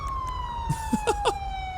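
A police car siren from the LSPDFR modification of GTA V wails in a steady, slowly falling tone, loud and continuous, with a few short blips layered over it.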